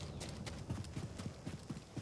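A horse's hooves clip-clop in Jedi Survivor, a steady rhythmic walking gait of muffled thuds over a constant hissing ambient background.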